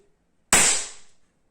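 A single shot from an inexpensive gun, one sudden loud crack with a brief hissing decay, alone against a quiet background.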